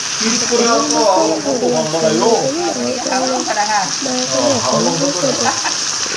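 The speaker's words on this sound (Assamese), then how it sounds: "আলুখিনি অলপ ভাজি হ'ব দিছে একেলগে মাংসৰ লগত।" Potatoes fry in a pan with duck meat for a home-style duck curry, giving a steady close sizzle with stirring scrapes throughout while a voice talks over it.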